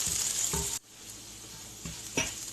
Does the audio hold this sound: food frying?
yes